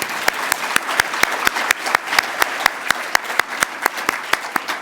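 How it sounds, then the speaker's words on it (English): A conference audience at a talk on adolescent and young adult substance use gives applause after a presenter's talks: clapping through the whole stretch, with sharp, evenly spaced loud claps standing out near the microphone. "I think we ought to give him another round of applause."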